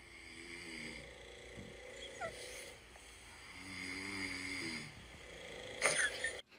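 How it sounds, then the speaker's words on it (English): A man and a dog snore on alternating breaths, so low rumbling inhales and wheezy exhales follow one another in a slow, continuous cycle, close and moderately loud, ending with a brief sharper snort. "When your boyfriend and dog snore on opposite breaths, so it's constant snoring all night."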